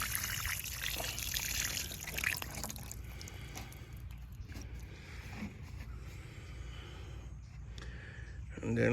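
Water mixed with soluble fertilizer trickles and pours steadily onto a fig tree's soil outdoors, a faint continuous liquid stream with soft background noise throughout.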